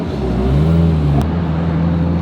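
Turbocharged Honda S2000 creeping through heavy traffic, its engine humming steadily close by with a slight rise in revs and a brief click midway, no talking.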